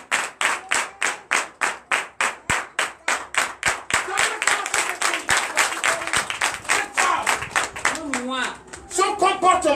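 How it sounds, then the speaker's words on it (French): A church congregation at a Sunday service in Comè, Benin applauds a girl with rhythmic clapping that swells into dense, loud applause, with a voice speaking over the end. "Donnez l'acclamation à cette fille."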